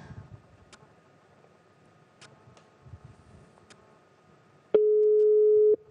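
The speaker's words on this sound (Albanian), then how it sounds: "Sepse këtë numër e kemi provuar shumë herë dhe asë kush nuk përgjigjet." A phone call to an unanswered number: quiet faint clicks and line noise, then a loud, steady electronic tone begins near the end and holds for about a second, with no speech.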